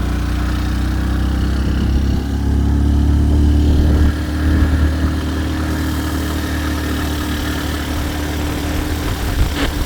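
A motorcycle engine runs steadily and close by on a snowy outing, a low rumbling drone that holds throughout with a slight shift near the middle, with no voices heard.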